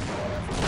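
Gunfire in the online shooter Team Fortress Classic, a dense rattling burst of shots that runs through the whole short moment, loud and close with no pause.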